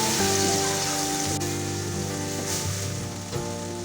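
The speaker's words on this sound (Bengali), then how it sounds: "চিকেনটা খুব ভালোভাবে এখন আমি কষিয়ে নেব" Chicken pieces fry and sizzle in a pan for Chinese chicken vegetable fried rice, a steady hiss with faint stirring bumps under a background hum.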